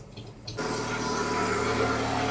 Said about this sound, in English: So the engine is slowly getting up to temperature so that I can check the idle